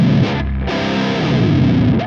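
A distorted electric guitar through a Fractal effects unit performs a dive bomb, the pitch swooping downward after a brief dip, with attack damping softening the onset; one loud, sustained, heavily processed tone lasting about two seconds, no talk.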